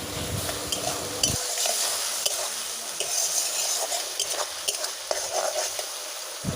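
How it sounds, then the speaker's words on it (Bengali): Turmeric and chili powder sautéing with small river fish in a pan, steady close sizzle with stirring scrapes and occasional utensil clicks throughout, no talk. "এর মধ্যে দিচ্ছি হলুদের গুঁড়ো লঙ্কার গুঁড়ো দিয়ে ভালো করে কষিয়ে নেওয়ার পর"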